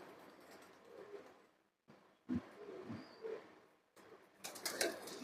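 Pigeons, one of them silver, cooing in low soft bursts close by, with a quick flurry of wing flaps near the end and short gaps of near quiet between sounds.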